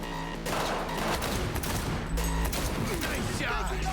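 Dense gunfire in the Cyberpunk video game, rapid overlapping shots and bursts filling the whole stretch, loud and close, with in-game voices calling out over the shooting.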